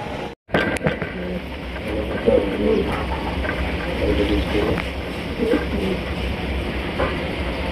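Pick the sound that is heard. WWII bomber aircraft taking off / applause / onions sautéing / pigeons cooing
pigeons cooing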